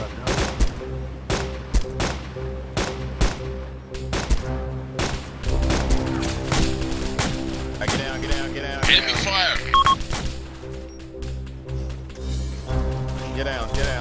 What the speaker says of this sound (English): Enemy fire! Enemy fire! Enemy fire!